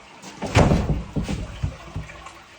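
Toilet flushing in a men's or women's restroom at a yard business, a rushing, gurgling wash of water with bumps and clunks, heard at moderate distance with no talking over it.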